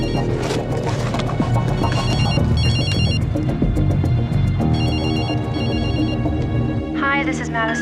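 A telephone rings in a few repeated electronic bursts set beneath a loud, busy dramatic score, the trilling pattern returning in short groups and standing out near the end.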